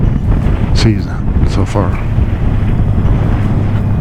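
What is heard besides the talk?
strong wind blowing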